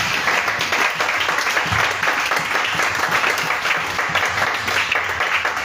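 Congregation in church applauding the Lord after a sermon, a steady, dense wash of many hands clapping that fills the space without pause, with faint voices mixed underneath.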